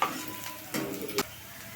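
Onions stirred in a hot pan, a soft sizzle under a few quick scraping strokes of a spoon, close and fairly quiet.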